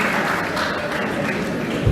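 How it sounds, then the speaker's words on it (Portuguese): Congregation in a church applauding, a steady wash of clapping from many hands that fills the space, loud and continuous without a break. "Uma salva de palmas para o Senhor"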